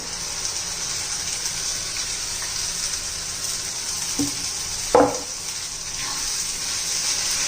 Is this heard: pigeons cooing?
no